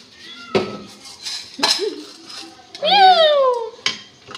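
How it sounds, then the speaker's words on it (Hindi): A cat meows with a rising, drawn-out cry in a home kitchen where goat trotters (paya) are cooking with cumin and whole spices, mixed with clinks of pots and utensils and nearby voices. "लगता है बिल्ली को पाए की खुशबू आ गई है"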